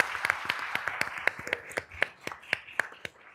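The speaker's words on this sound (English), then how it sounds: "So round of applause for this amazing" A small audience claps at a Latino health policy summit: sparse, individual claps in a loose, uneven rhythm over a few seconds, moderately near.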